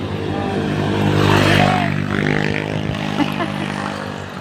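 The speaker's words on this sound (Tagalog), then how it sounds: "Bilis na motor oh." A motorcycle roars past nearby, swelling and then fading as it speeds away, with a steady hum underneath.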